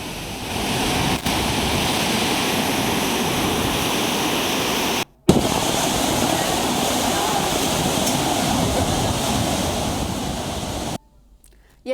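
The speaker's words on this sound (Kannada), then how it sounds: "ಅಪಾರ ಪ್ರಮಾಣದಲ್ಲಿ ನದಿಗೆ ನೀರನ್ನು ಹರಿಬಿಡ್ತಾ ಇರುವಂತಹ ಹಿನ್ನೆಲೆಯಲ್ಲಿ" A massive volume of river water released from the Tungabhadra dam makes a steady, loud, roaring rush that continues almost unbroken, with only brief drops in level.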